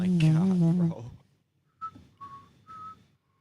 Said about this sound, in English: He whistles when he walks.